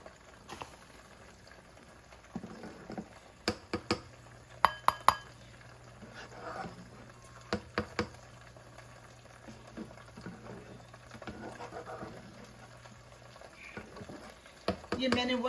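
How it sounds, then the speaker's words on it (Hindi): Mash dal boils with froth in a pot on the stove, a soft bubbling simmer under sharp clinks of a utensil against the pot. "ये देखिए उबाला आया है, फ्रॉथ जिसे कहते हैं,"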